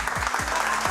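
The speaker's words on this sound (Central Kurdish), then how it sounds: "چەپڵەکانتان" A studio audience at a televised quiz show claps in a dense, steady burst of applause that fills the whole moment, loud and continuous.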